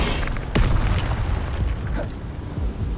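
Incendio fire spell in Hogwarts Legacy, a sudden whooshing burst with a low booming rumble that flares near the start and then rolls on as a roaring crackle amid ongoing combat noise.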